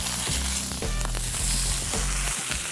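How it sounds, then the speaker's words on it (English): Steelhead salmon with a pepper crust sizzles steadily in a hot pan as it is flipped, a close, continuous frying hiss with a few soft clatters and no talk. "So I'm gonna flip our beautiful steelhead here too,"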